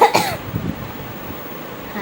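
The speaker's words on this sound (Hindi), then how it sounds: "खांसी भी हल्की हल्की आ रही है।" A single short cough right at the start, close and abrupt, followed by quiet.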